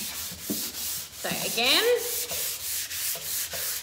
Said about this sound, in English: sanding up and down, letting the sandpaper do the work.